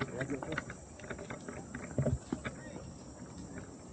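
Horse hooves clip-clopping during a horseback ride at Dahilayan, light irregular footfalls heard fairly close beneath intermittent chatter and rustling.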